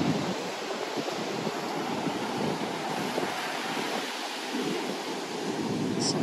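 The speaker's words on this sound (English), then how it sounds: "Some huge waves out there today." Large ocean waves breaking at Flagler Beach after Hurricane Nicole, a continuous roaring surf mixed with heavy wind buffeting the microphone, with no voices.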